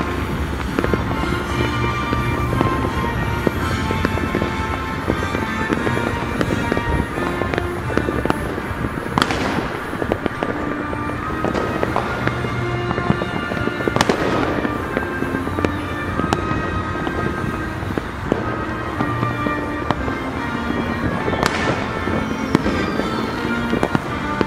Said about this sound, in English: Now let's add some fireworks.